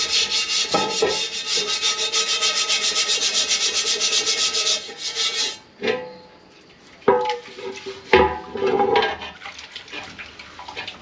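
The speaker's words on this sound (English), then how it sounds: "Drywall sandpaper is like, I mean, it's like using a grinder almost. It definitely takes her down quick." Drywall sandpaper rasps across a cast iron skillet in quick, even back-and-forth strokes for several seconds, then breaks into scattered scrapes and knocks.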